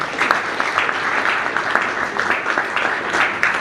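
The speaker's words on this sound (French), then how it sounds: "Monsieur José Baïndama, sous vos applaudissements." A crowd at an awards ceremony applauds a distinguished recipient with sustained, busy clapping, a dense continuous patter from many hands filling the room.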